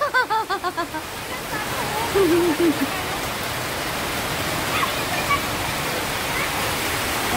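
Rain falls steadily on a rainy day, a dense even rush of broadband patter that continues throughout, while a person talks briefly over it at the start and again a moment later.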